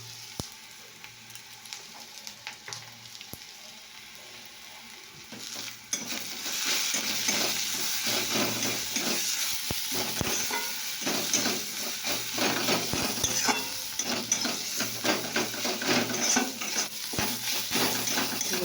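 Spices with turmeric, salt and chilli powder sizzle and fry in a pan while being stirred, with steady scraping and clinking of a utensil against the metal; the frying grows louder and busier partway through, with no talking.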